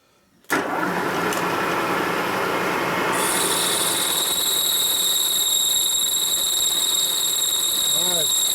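A milling cutter machining a 1958–1960 Harley-Davidson panhead cylinder head starts up abruptly, then runs as a steady loud whir with a high metallic ringing tone that begins after a few seconds and holds to the end.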